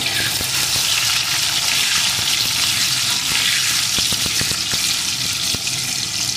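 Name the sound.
potatoes frying in a pan with salt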